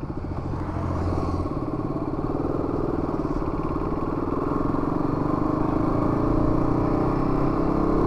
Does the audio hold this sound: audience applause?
no